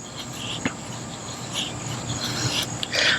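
A Condor Urban EDC Puukko knife blade scrapes along a chunk of fatwood, making a soft, continuous rasping hiss broken by a few sharper scratches, close up with no talk.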